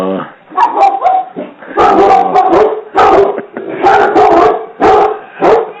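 Several dogs bark loudly and close by in repeated bursts of yips, barks and whimpers, mixed with what sounds like a voice in the room.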